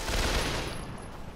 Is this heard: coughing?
no